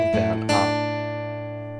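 A single strummed chord on guitar from the closing riff section of a song, struck twice in quick succession and left to ring out and decay cleanly with no voice over it.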